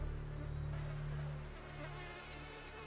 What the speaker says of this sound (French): La calamité des moustiques afflige autant les petits animaux que les grands.